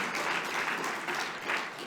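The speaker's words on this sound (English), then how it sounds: "Give yourselves a round of applause." A room of university graduate students at an orientation bursts into steady, dense applause, loud and sustained throughout with no break.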